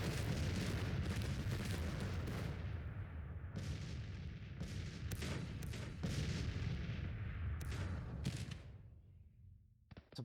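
Dense cannon and artillery fire from a Civil War battle line near Gaines Mill in the strategy game Grand Tactician: The Civil War, continuous rumbling booms with sharp volleys overlapping for most of the stretch, fading near the end.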